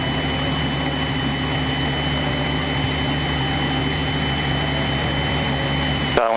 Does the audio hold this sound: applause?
no